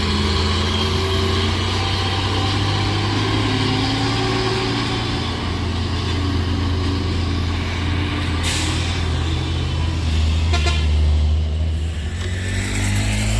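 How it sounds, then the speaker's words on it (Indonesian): A heavy Fuso tronton truck engine roars loudly and continuously, labouring uphill under strain with a deep rumble and hiss, close by. "Truk tronton Fuso India SZ"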